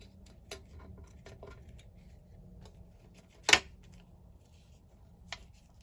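Scissors snip through paper scraps in a quiet room, giving a few faint, sparse clicks and one sharper, louder snip near the middle.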